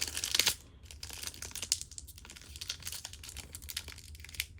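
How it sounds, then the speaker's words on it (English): Crinkly plastic wrapper of a Squishmallows blind pack being torn and crumpled up close, a burst of sharp rustling followed by steady scratchy crackling. "now I'm going to open up the packs"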